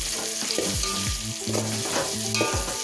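Curry leaves and green chilies fry in a pan with a constant crackling sizzle, heard close and steady beneath tonal background music with gliding notes.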